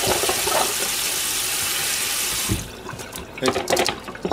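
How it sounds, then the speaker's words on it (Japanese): Muddy vegetables are washed under a kitchen tap: a loud, steady gush of running water fills the first half, then cuts off, followed by wet splashing and handling noises and a brief spoken word. "やっぱ泥ついてたらまずいからちょっと洗うかな"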